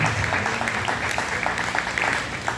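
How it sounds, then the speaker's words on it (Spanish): A church congregation claps during a sermon, a dense patter of many hands filling a short stretch at moderate loudness. "Den un aplauso al Señor por la palabra."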